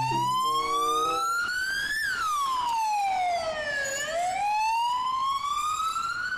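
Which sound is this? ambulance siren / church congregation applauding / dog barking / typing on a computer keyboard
ambulance siren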